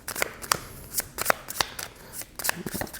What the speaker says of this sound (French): on peut bien mélanger les cartes